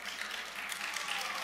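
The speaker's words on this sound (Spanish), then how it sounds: "No sé por qué me aplauden" Brief burst of applause from assembly members in a parliamentary session, a soft, steady patter of many hands clapping at a moderate distance.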